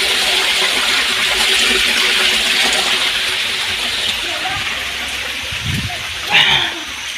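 Monsoon rainwater gushes and splashes in a steady, loud wash near a Mahakali temple, with a brief louder splash late on and faint voices underneath.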